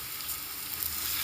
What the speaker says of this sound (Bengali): টমেটো সসটাকে দিয়ে ভালোভাবে নাড়াচাড়া করে নিচ্ছি, মশলার সাথে ভালোভাবে মাখিয়ে নিচ্ছি